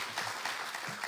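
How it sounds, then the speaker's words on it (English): Audience applause for forum panellists at a university decarbonisation forum, a short, dense patter of clapping at moderate level throughout, no voices over it. "Please put your hands together and give them a round of applause."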